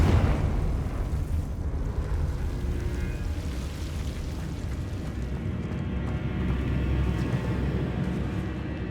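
Confringo fire-blast spell cast in Hogwarts Legacy, a sustained rumbling explosive burst with crackling debris layered over a continuous game soundscape, loud and full throughout.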